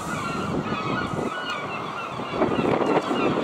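A flock of birds honks at the seaside in Scarborough, a continuous, loud, close chorus of overlapping calls with wind noise underneath that swells toward the end.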